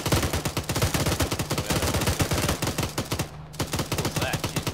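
Rapid automatic gunfire in the military video game ArmA, a dense stream of sharp, loud shots in steady bursts, briefly pausing before firing resumes.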